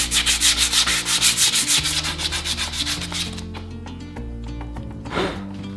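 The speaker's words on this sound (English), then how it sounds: "I just used a flap disc on a drill and got a close enough aesthetic shape" A flap disc on a drill grinds steadily against a wooden boat paddle in a rapid pulsing rhythm, close and loud, then eases off into a lighter rubbing tone with a brief scrape near the end.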